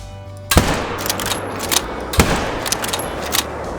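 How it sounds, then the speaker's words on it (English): Two loud gunshots from a 7mm bolt-action hunting rifle in a hunting video game, sharp cracks about a second and a half apart, each trailing off into a reverberant tail with no talk. "So we got double lung heart shot there, pretty crazy penetration, 153 meter shot, and that is the 7mm bolt action."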